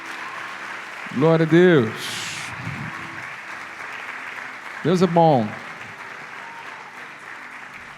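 A church congregation at a conference claps steadily in praise, a continuous wash of applause running underneath two loud, shouted exclamations from a speaker.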